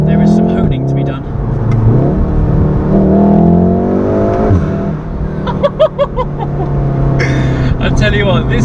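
Volkswagen Golf R engine droning steadily on quiet country roads, with a sustained rising and falling rev note heard from inside the car and a brief rattle of lighter noises near the end.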